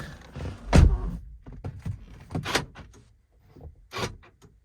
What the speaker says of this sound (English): You gotta close your door.